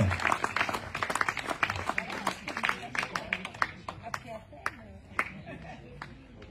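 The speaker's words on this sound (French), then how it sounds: "and you can applaud everybody" Audience applause at a competition results announcement, with scattered claps thinning out over several seconds and a voice speaking over the crowd.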